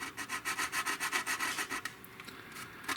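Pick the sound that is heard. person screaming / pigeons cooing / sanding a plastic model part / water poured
sanding a plastic model part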